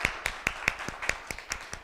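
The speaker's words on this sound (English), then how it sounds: "give yourself a round of applause" Students give a short round of applause after a campus news show, heard as a handful of sharp, evenly spaced claps, fairly faint and close, with no voices.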